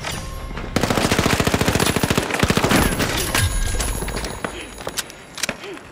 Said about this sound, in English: Heard another one shooting over here.